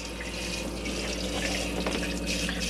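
Water runs from a pump-pressurised basin tap in an Elddis Signature CV60 caravan, a steady close splashing gush into the sink that holds level throughout with no talk.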